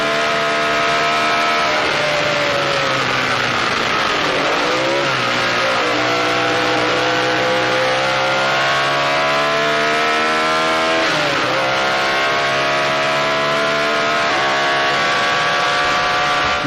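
A Lotus 33 Formula 1 car's 1.5-litre Coventry Climax V8 runs loud and steady, climbing through gears in rising harmonic sweeps with two brief dips where the revs drop before pulling up again, no voices over it.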